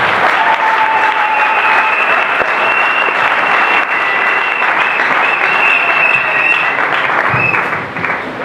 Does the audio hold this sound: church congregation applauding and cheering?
yes